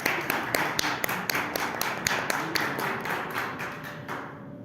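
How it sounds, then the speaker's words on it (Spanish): Audience at a book fair presentation applauding steadily, a dense wash of many hands clapping with a few sharper individual claps standing out, fairly close and sustained before tapering off near the end. "recibir con un fuerte aplauso a Mariana y a Julián"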